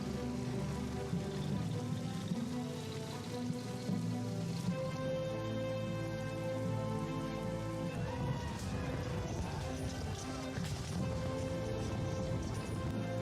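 Continuous rain pattering on surfaces in the war strategy game Strategic Mind: Fight for Freedom, a steady close downpour lasting throughout, with low game ambience and music underneath.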